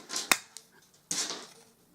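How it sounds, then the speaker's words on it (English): A half-inch paper punch snaps down twice to cut ends off paper pieces for a Halloween party food basket, each a sharp close click with a short rustle, separated by a quiet gap. "I'm just going to use my 1/2 inch punch and I'm just going to cut off like a 1/4 of a circle"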